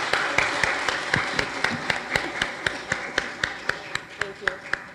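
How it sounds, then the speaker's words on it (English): Applause for two women at the close of a customer service seminar, with steady crowd clapping and sharp individual claps standing out near the microphone, and some talk mixed in underneath. "let's please give these ladies a big round of applause."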